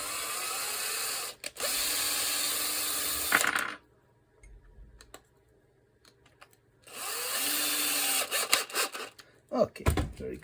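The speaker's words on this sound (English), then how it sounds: "I'm just going to screw it from above to make sure I've recut the threads correctly" Hand-driving a screw from above into a recut thread on a HOPEJr robot right-leg assembly, two bursts of brisk ratcheting with quiet workshop clatter and small knocks between them.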